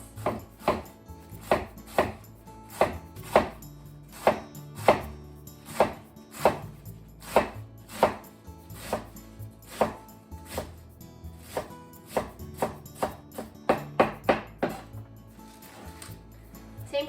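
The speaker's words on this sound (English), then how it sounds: "And just slice." A knife slices a vegetable into strips on a cutting board for asazuke quick pickles, a steady series of crisp, close chops and taps, with short pauses between strokes and no talking.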